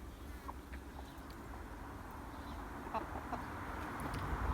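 Three hens and a rooster cluck faintly and sporadically in a small henhouse in a garden, under steady background noise.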